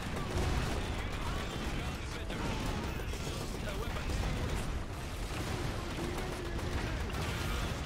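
Gunfire and explosive blasts in the real-time strategy game Iron Harvest, a dense continuous barrage of overlapping shots and booms under occasional talk.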